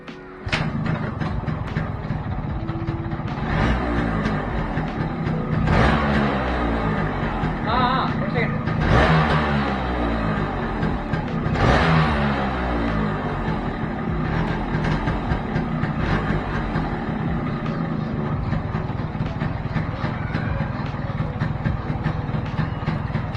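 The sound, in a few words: Yamaha RX motorcycle engine revving after vacuum leak repair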